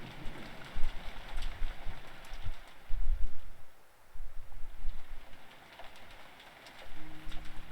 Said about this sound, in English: 2 young students, Mian and Rika, approach the empty Hinamizawa bus stop with only the sound of the rain to be heard.